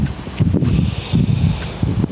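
Gusts of wind buffet the microphone beside a canal in bursts of low rumble and rustle, rising and falling over two seconds with no talk.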